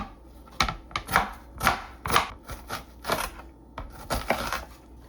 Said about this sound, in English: First thing I'll do is dice up one onion.